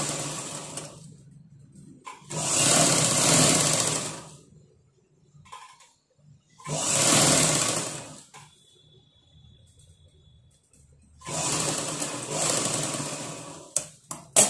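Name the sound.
sewing machine stitching a blouse sleeve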